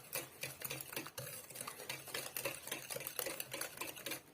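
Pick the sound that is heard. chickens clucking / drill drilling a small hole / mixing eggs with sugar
mixing eggs with sugar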